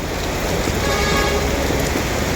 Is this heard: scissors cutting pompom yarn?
no